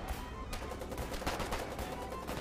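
Tank gunfire in the Foxhole war game, a dense stream of gunshot bursts and broadband cracks spread evenly across the moment, busy and continuous with no clear gaps between shots.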